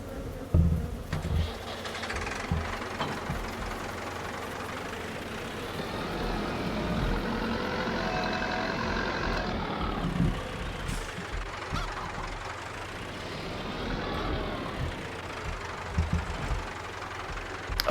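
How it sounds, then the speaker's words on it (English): Tractor engine in the Farming Simulator 22 video game, a steady rumbling drone that rises and falls as the tractor moves, continuous for the whole stretch with no clear reversing beeps and no voices. "I'll bring the tractor over and connect it to the water trailer"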